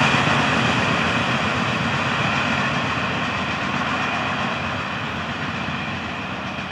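A double-stack freight train rolls past on the FEC line in the early morning, a steady loud rumble of wheels and cars with faint clatter, continuous and close, no voices.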